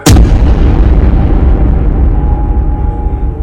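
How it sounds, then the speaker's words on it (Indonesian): A motorcycle crashing into a very large tree as a horror podcast effect: one loud, close booming impact that rolls into a long, deep rumbling decay and fades slowly. "Motornya pun seketika oleng dan langsung menabrak pohon yang sangat besar."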